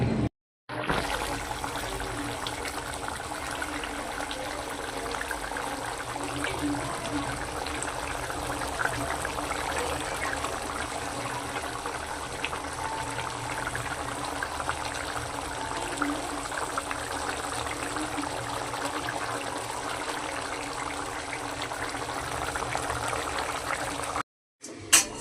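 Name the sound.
water being poured into a pan while cooking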